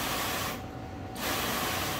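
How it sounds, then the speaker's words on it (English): Rain-X ceramic detail spray misted onto a car panel: a steady broadband hiss from the nozzle that dips briefly in the middle, then resumes, close and fairly loud. "And then Rain-X ceramic detail spray."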